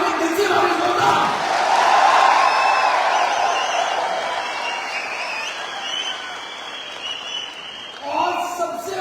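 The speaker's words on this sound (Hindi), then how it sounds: "तालियां मांगे दिल से मांगे जोरदार।" Loud applause and cheering from a large crowd at a business seminar, dense clapping mixed with whoops and shouts, peaking early then easing before a fresh burst at the end.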